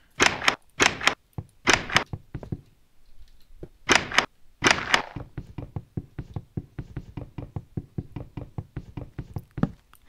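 Wooden door being broken in Minecraft: a series of hollow knocks and thunks, some loud and clustered, others quicker and softer, running steadily throughout with no talking.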